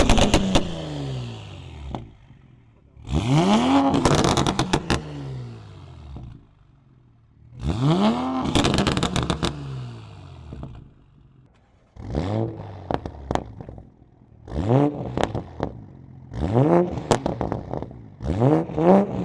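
A Toyota A90 Supra with a Tomei full titanium exhaust revs hard in repeated loud bursts, its tone sweeping up and down, with crackles and pops as each rev falls away.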